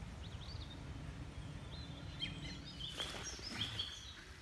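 A song thrush sings faintly in the background beside a small pool during a perch and roach angling session, with brief repeated chirping phrases over a low rumbling murmur.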